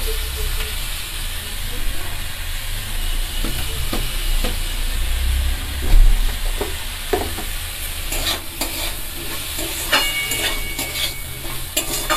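Methi leaves with turmeric being stirred in a hot pan, giving a steady loud sizzle and hiss with scattered scraping and clinking of the spatula, close and continuous without speech.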